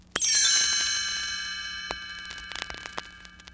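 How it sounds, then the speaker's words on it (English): A bright chime rings out once and slowly decays, followed by a few faint soft clicks. "You will know it is time to turn the page when you hear the chimes ring like this."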